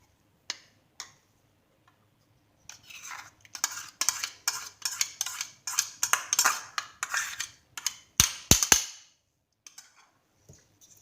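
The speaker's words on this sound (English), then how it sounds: "I'm just going to stir it." A spoon scrapes and clinks around a pan as egg and cheese are stirred into carbonara with bacon, garlic and onion: quick, close, rhythmic stirring strokes in steady bursts, with no talking.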